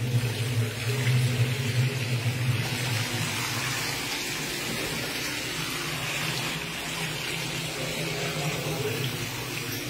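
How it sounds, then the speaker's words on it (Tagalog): A tap turned on after a month away from home: water gushes and runs steadily the whole time, loud and close, with a low hum underneath. "mag-aandar lang po kami ng tubig kasi nga isang buwan kaming wala dito"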